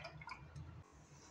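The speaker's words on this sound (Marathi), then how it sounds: "थोडंसं मी पाणी आणखी वाढवलं आहे," Water poured into tangy pani puri water spiced with pani puri masala and tamarind-jaggery water, a soft close trickle with small drip-like splashes that pauses briefly before resuming.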